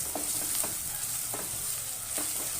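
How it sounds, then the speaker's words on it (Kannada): Ginger garlic paste frying in a pan while palak paneer is cooked: a steady, close hiss of sizzling oil runs throughout, broken by a few brief scrapes of a stirring spoon, with no voices. "ಶುಂಠಿ ಬೆಳ್ಳಿ ಪೇಸ್ಟ್ ಹಾಕಿದ್ಮೇಲೆ ಚೂರು ಫ್ರೈ ಆಗಲಿ"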